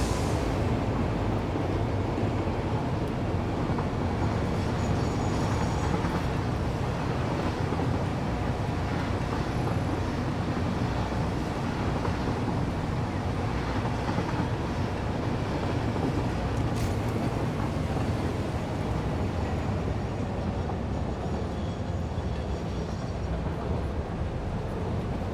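In a video game, trains roll along a main rail line with a constant dense rumble and clatter that stays loud and steady throughout, with no voices.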